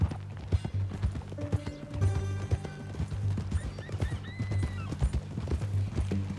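Horse hooves clip-clopping in Red Dead Redemption 2, a rhythmic trot close by with occasional whinnies and snorts, alongside a few short tonal sounds and a quiet musical bed.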